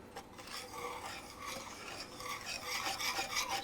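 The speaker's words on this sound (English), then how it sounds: "stir that together" Cocoa powder and half a cup of milk stirred together in a pot, a steady close scraping and rubbing with no talk, growing slightly louder toward the end.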